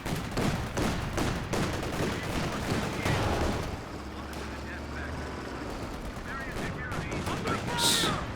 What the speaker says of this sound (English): These 50 cals causing Talisman a few headaches every time he pushes out